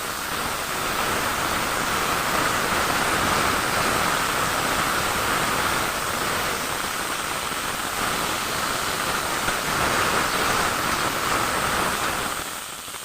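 Cut, washed vegetables hit a hot wok with a little oil, raising a loud, steady hiss of sizzling that runs almost unbroken for the whole stretch, close and alone with no voices.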